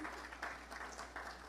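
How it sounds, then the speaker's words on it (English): Audience at the Caribbean Broadcasting Union's 35th Caribbean Media Awards applauding radio category winners and nominees, a brief, faint patter of clapping heard from a distance. "Please give all our winners and even those who are nominated this year in the radio category a hearty round of applause."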